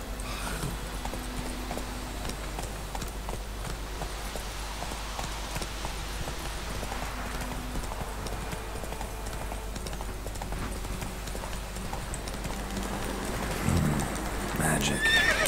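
Roach, the horse in The Witcher 3 video game, gallops with steady clip-clop hoofbeats and lets out whinnies, under a continuous game soundtrack with bursts of spoken dialogue, growing louder near the end.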